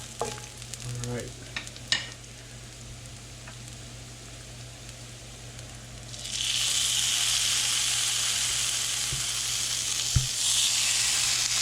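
Mahi mahi fillets sizzle in a frying pan, a soft hiss at first after a few handling clatters, then swelling into a loud, steady broadband frying roar from about six seconds on, with an occasional sharp tap of the pan.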